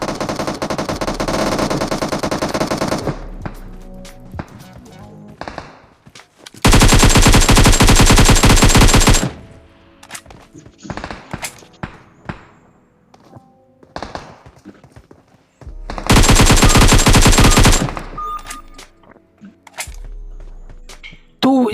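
Automatic gunfire in a battle royale video game fight, heard as three long, loud bursts of rapid fire separated by quieter stretches of scattered shots, taps and thuds.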